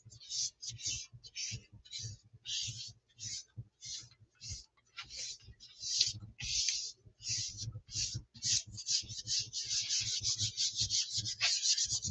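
Paper being rubbed down by hand onto a gelli printing plate makes repeated short, scratchy rubbing strokes in an uneven rhythm, close and fairly quiet, becoming faster and more continuous toward the end.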